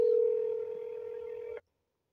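A telephone line sounds a single steady electronic tone while a number is dialled to call back. The tone is clear and alone, fades slightly, then cuts off abruptly into silence.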